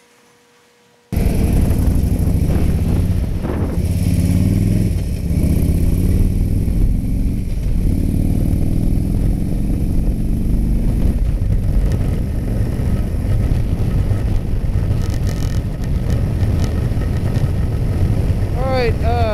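A Harley-Davidson Twin Cam 96 motorcycle engine cruising in sixth gear at about 60 mph and 2600 RPM, a steady loud engine drone with wind rumble that starts abruptly after a second of quiet and holds throughout.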